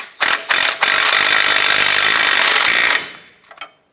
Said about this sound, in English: Let's go ahead and snug down this bottom pinch bolt.